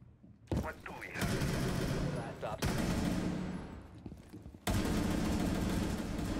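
Gunfire in CSGO, several bursts of rapid loud shots that cut in and out sharply, with a louder burst near the end.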